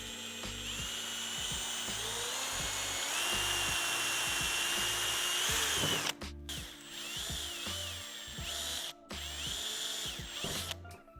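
An electric drill bores through the metal of a car boot while a Trevora TR87 rear wing is fitted to a BMW G87 M2, a steady whine close by, then a few short bursts with brief pauses.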